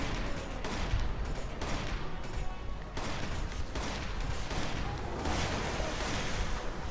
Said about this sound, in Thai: ปืนแมกนัมแบบลูกโม่อันนี้เนี่ยไฟเลดมันจะไวครับ